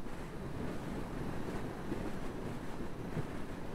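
Strong seaside wind roars over a motorcycle rider's helmet with the visor closed, mixed with surf and waves in a constant, rushing, low rumble and no gaps.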